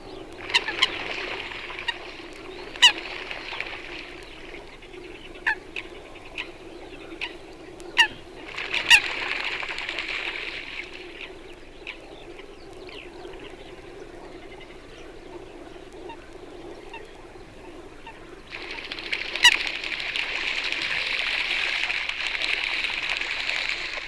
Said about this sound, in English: Aggressive coots can be heard chasing each other over the surface of the water.